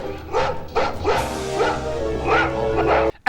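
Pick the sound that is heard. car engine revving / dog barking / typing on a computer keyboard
dog barking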